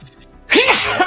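A single loud, close sneeze bursts out after a short stretch of quiet, with a sharp onset and a trailing vocal tail.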